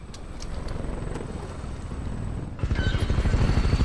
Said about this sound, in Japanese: ヘリコプターの音ですね